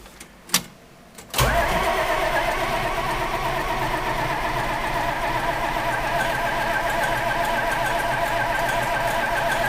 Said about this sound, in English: fire up the tractor. See if we can get it to go